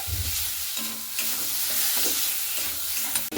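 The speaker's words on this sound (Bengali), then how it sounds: "তো মাছের তেলটা দিয়ে এইভাবে খুব সুন্দর করে নাড়াচাড়া করে নিতে হবে।" Malabar spinach being stirred in a hot pan with fish oil, a continuous close sizzle with repeated scraping and tossing of the greens, no talking.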